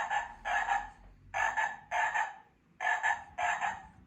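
A decades-old toy frog, a soundable object, gives six bright chirpy croaks in three close pairs, fairly near and steady, each burst a buzzy warbling note with pauses between pairs, alone with no talking.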